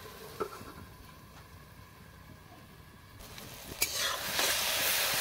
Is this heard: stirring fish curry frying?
yes